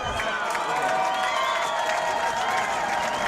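Crowd at an IHSA varsity high school football game between Fenwick and Brother Rice reacting to a fourth down spot, a steady roar of cheering and shouting that holds throughout with some clapping mixed in.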